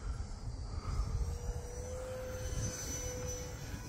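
An E-flite Habu SS 50mm RC electric ducted-fan jet flies past outdoors, a faint, distant whine that rises slightly in pitch over a few seconds against wind rumble.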